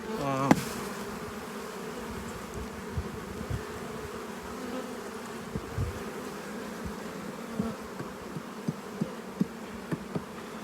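Honeybees buzzing around open beehives, a dense continuous hum filling the air with a few sharp clicks and knocks from the hive frames, no talk.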